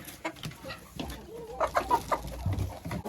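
Hens clucking in short, uneven bursts, close by in a chicken coop, with soft rustling and low background noise.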